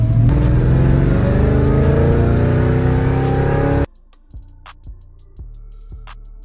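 Dodge Challenger Hellcat Redeye V8, loud and close while driving, a sustained rising engine roar that cuts off abruptly into a quieter stretch of sparse knocks and clicks.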